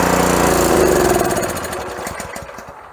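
A Honda small engine on choke runs at full rev with a loud, rough mechanical drone, then sags and sputters down as it dies, the firing pulses slowing and thinning out near the end.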